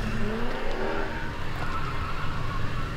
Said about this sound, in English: Damn, they're having their own drift sesh out here.